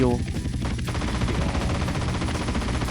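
Rapid gunfire in the video game GTA San Andreas on PS2, a dense run of repeated shots with a rhythmic pulsing texture over a constant loud game background.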